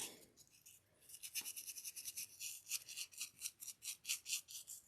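Dry brushing paint onto a clay faux waffle earring, quick rhythmic bristle scratches close up, starting slowly and then becoming a steady rapid rubbing with no voices.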